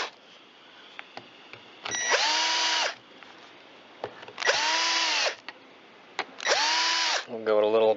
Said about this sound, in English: Give the starter rope a pull.